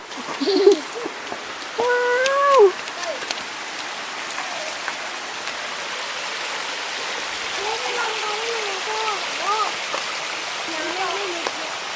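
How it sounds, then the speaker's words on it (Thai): The first tier of the Sai Rung (Rainbow) waterfall rushes in a steady, broad roar. Voices call out over it early on and return faintly later. "น้ำตกอยู่ด้านหน้าเราเองครั บ"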